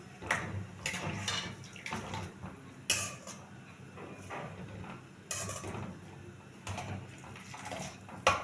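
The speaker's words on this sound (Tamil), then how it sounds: "தண்ணி நல்லா கொதிக்குது." Water with a little ghee boils in a cooking pot for sweet kozhukattai, a soft, continuous bubbling with occasional metallic clinks of the pot and utensils.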